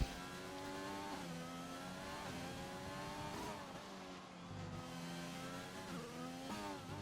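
A McLaren Formula 1 car screams through a racing video game on the Spain circuit, its high-pitched engine revving and shifting continuously, loud and steady with pitch swoops as it brakes into and powers out of corners.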